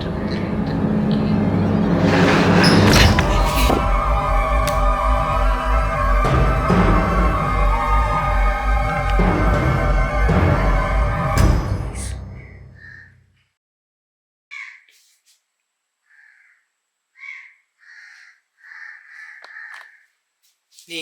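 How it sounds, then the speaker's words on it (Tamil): Crows cawing outside, heard as a dense, loud roar of many overlapping calls that suddenly drops away, leaving a few scattered, sharp caws in near silence. "வெளியே இவ்வளோ காக்கா கத்திக்கிட்டு இருக்கு"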